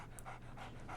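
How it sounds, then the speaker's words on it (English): A dog pants in quick, rhythmic breaths close by, heard as a soft repeated huffing over low steady background noise in the Sherlock Holmes: The Awakened video game. "So, Barnes has a dog now."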